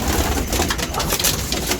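Pigeons coo close by in a small aviary, a dense overlapping chorus of soft throaty calls with rustling, and no talking.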